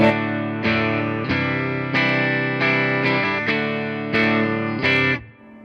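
Electric guitar on the bridge pickup through a Fender Twin Reverb Tonemaster with the bright switch on and reverb added, a sequence of loud sustained chords struck about every second, ringing out with a reverb tail at the end.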